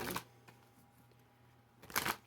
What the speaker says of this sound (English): Let me do a quick shuffle because your cards are kind of uncooperative all of a sudden.